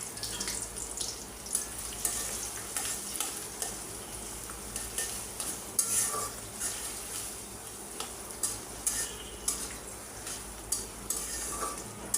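Onion, garlic and dried chili fry in a karahi for tempering, giving a dense continuous sizzle close up, with repeated scraping and stirring knocks throughout.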